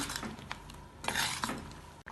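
A spoon stirring through thick jackfruit seed, mango and drumstick curry in a metal pot, a few scraping, clinking strokes close up, no talking.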